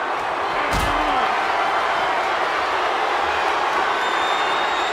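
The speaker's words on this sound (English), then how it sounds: "Surviving the shutting door and escaping the ambulance." A single sharp slam rings out as an ambulance door shuts during a wrestling match, one loud hit early on above a steady roar of crowd noise.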